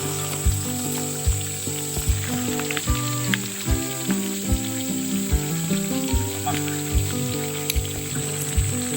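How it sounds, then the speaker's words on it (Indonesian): Sepat and haruan fish sizzle steadily in hot oil over an outdoor fire in a forest camp, with a dense crackle broken by regular louder pops and a few clinks from the pan, close and with no talking. "Kami lanjut menggoreng ikan sepat dan ikan haruan ke dalam minyak panas."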